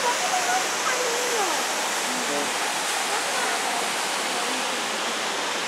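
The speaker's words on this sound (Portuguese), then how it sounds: "aqui onde a gente está tem umas gotas de água da cachoeira que vem até nós" A waterfall at a grotto in Caxias do Sul, Brazil, roars in a steady, broad rush of falling water, loud and continuous, with faint voices briefly audible beneath it.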